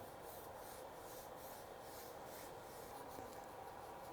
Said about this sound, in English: I'm going to essentially rub the pattern here to get it to sit down